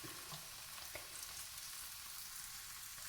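A paratha fries in oil in a hot pan, giving a steady, close sizzle that continues without a break. No voices are heard.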